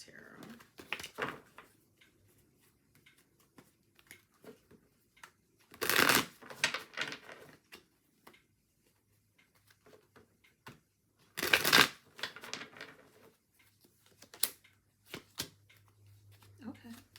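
Tarot cards are shuffled in two loud, quick riffling bursts close by, with softer handling and card-tapping sounds in between and a faint low hum near the end.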